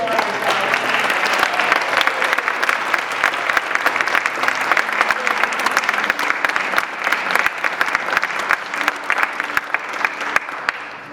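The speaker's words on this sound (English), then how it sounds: "And of course, a big round of applause." An audience at a Bob Dylan and the Law theatre event applauds musicians, sustained loud, dense clapping lasting several seconds with crowd noise and some faint voices underneath.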